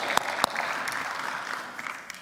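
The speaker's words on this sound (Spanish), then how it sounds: "¿Por qué no le das un aplauso ahí donde tú estás al Señor de señores" Congregational applause during a church sermon, a sustained wash of many hands clapping with a few sharper, nearer claps standing out, holding steady before easing slightly toward the end.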